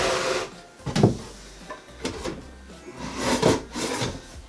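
Repeated scraping and rubbing of a wooden post forced into a tight-fitting wooden planter box, uneven strained pushes in short bursts, close by with no talking.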